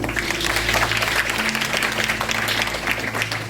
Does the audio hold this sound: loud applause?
yes